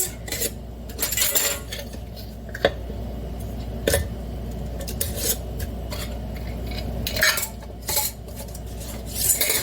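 Brand-new metal flat lids and rings set on glass canning jars for pressure-canned ground beef: scattered sharp metallic clinks and taps with rubbing and scraping between, close and without speech.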